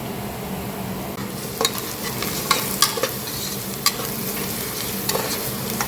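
Mutton masala fries in a pan while being stirred, producing a continuous close-up sizzle broken by several sharp spoon scrapes and clinks against the metal.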